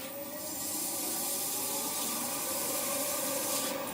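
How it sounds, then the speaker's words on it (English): Light hand sanding with fine 1200 grit grey abrasive on a sanding-sealer finish, heard as a soft, continuous close rubbing hiss with hardly any pressure. "So to denib, I take the fine 1200 grit grey, hardly any pressure,"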